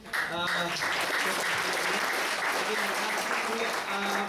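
Audience applause at a live event in Surabaya, a dense, steady round of clapping that holds loud for several seconds, with some voices mixed in.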